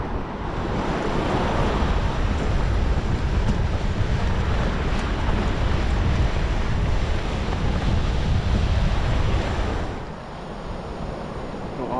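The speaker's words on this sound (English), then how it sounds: "it's calmed down quite a bit since when I first started, but it was hitting the bank pretty close to it anyways with the waves." Ocean surf rolls steadily onto a beach bank on East Beach, Haida Gwaii, a loud, continuous roar with wind buffeting the microphone that eases slightly near the end.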